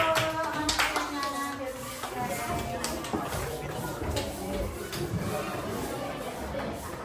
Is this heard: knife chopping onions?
no